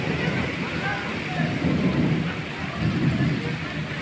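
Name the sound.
thunder and heavy rain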